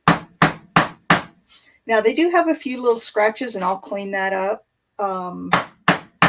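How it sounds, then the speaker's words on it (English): Sharp metallic hammer blows flatten metal pieces on a bench in a metals studio, a few evenly spaced strikes at the start and more at the end, with a person talking in between. "I'm just going to hammer these really flat."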